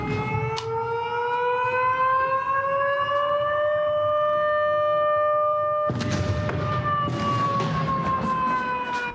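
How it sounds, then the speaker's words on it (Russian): Civil defense air raid sirens wailing across the Belgorod region at night, several overlapping sustained tones slowly rising in pitch, loud and steady, with a burst of rumbling background noise joining in partway through. "Сирены в Белгородской области включились в понедельник поздно вечером."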